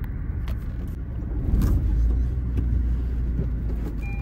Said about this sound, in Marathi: आता आपण इथून गाडी आत पार्किंग साईडला घेऊन जाऊ